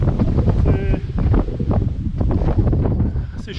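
Strong wind gusts across a hillside in the Spanish countryside and batters the microphone with loud, uneven roaring buffets. A few brief tonal sounds and faint movement noises break through now and then.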